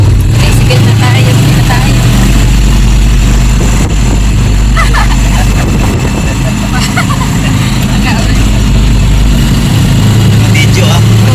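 Motorized tricycle engine running during a rainy ride in the Philippines, a loud, steady low rumble and hum filling the whole stretch with faint voices and road noise on top.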